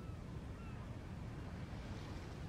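Ocean waves in the Genshin Impact video game, heard as a soft, steady wash of surf with no distinct breaks, faint and continuous.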